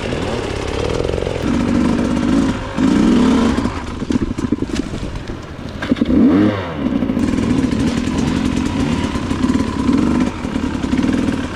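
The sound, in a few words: hard enduro motorcycle engine riding in second gear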